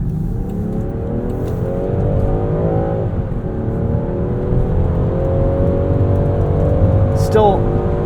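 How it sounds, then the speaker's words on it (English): A 2023 Land Rover Defender 130 First Edition with an inline six accelerating up an entrance ramp, engine note climbing steadily through the gears, loud and close inside the cabin, with speech over it. "Listen to this inline six sing and test out the handling of this Defender."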